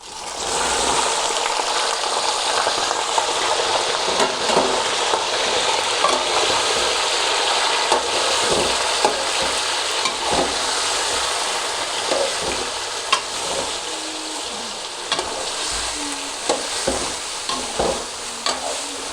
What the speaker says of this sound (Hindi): चिकन को अच्छी तरह भुने जाए।